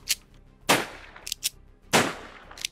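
Gunfire in a modded Minecraft game: a handful of sharp, loud shots at irregular intervals, two of them heavier and longer, with short clicks and pops between them and no voices.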